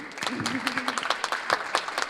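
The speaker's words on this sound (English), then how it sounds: "So please, a round of applause for this great team." An audience applauds a team at an event. Scattered claps run briefly beneath a voice that carries through part of the applause.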